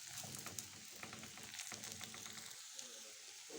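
Food frying in a pan, stirred with a spoon that scrapes in a steady rhythm over a constant faint sizzle, close by and without speech.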